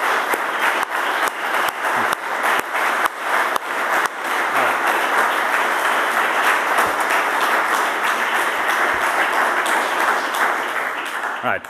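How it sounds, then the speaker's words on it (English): Sustained applause from a large audience at a free software foundation's 15th anniversary celebration during a conference, dense clapping filling the whole stretch loudly and evenly, with a few louder claps and murmuring voices mixed in. "I think we should all give ourselves a big hand again for that."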